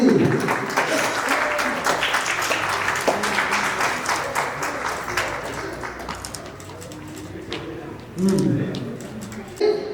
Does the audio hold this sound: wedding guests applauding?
yes